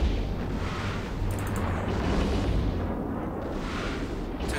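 Dense, continuous rumbling barrage of blasts and bursts, loud and sustained throughout, like heavy sci-fi weapon fire with no pauses; spaceship weapon fire in EVE Online.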